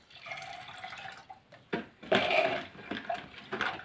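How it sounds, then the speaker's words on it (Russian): A water mixture with chicory, sugar and yeast for quick kvass is stirred by hand, with close splashing and sloshing in irregular bursts. "Хорошо перемешиваю."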